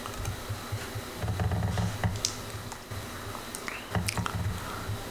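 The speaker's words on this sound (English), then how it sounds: "And then I start typing" Typing on a computer keyboard while entering a spreadsheet formula, a quick run of soft close key clicks and taps in irregular bursts, with no talk.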